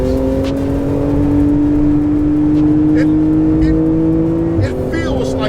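A Porsche GT2 RS engine hums and revs steadily in PDK sport mode with the exhaust open, with a rising drone and a brief pop near the end, while someone talks over it.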